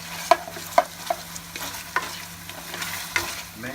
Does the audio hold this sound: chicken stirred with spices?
yes